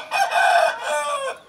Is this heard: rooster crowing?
yes